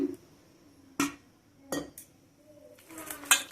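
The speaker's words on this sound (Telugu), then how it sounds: "బాగా కలుపుకోవాలి ఈ మసాలా అంతా ముక్కలకు పడేటట్టు" Chicken pieces being tossed with masala, salt, turmeric and a little oil in a pot, with a few sharp metallic clinks of a spoon against the vessel, separated by quiet gaps and close by.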